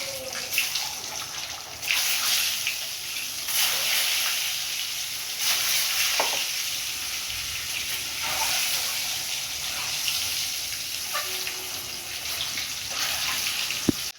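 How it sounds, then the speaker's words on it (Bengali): Eggs fry in hot oil seasoned with turmeric and salt, giving a steady close hiss and crackle throughout with occasional brief pops and utensil scrapes. "এবার ডিমগুলো আমি ভেজে নেব।"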